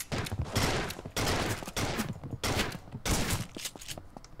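Shotgun fire in the video game Capsular, several heavy booming blasts roughly every half second to second, each with a noisy decaying tail, fairly loud with no voices.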